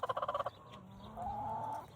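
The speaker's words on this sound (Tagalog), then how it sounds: "Ang dami mo palang manok, Mark." Chickens cluck in a quick rapid burst, then a longer drawn-out call follows, faint and a little distant.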